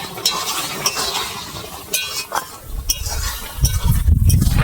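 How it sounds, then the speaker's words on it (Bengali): Mango pickle stirred with sugar in a pan makes scraping, clinking spoon strokes over a soft sizzle, close by, with a heavier low rumble of movement building toward the end; no one speaks. "আবার চিনি দিয়ে দিচ্ছি, আবার একটু নেড়ে চেড়ে দেবো"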